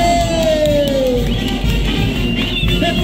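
A loud, dense crowd at a jaripeo ranchero rodeo in San Juan Yaee cheers and applauds continuously, with scattered shouts and a long sliding whistle rising above the roar.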